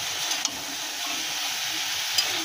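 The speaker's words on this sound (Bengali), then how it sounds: "ওপর থেকে আমরা এবার ভেজে রাখা আলুগুলো টুকরো দিয়ে দেবো, দিয়ে আবারও নাড়াতে থাকবো।" Fried potato pieces are stirred into a vegetable curry in a hot pan, giving a steady, close sizzling hiss with a couple of faint scrapes, no talking.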